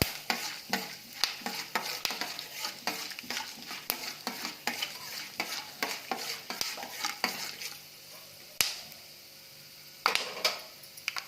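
Peanuts frying in oil while being stirred, close rhythmic spatula scrapes and clicks over a soft sizzle, the stirring slowing to a few isolated knocks near the end.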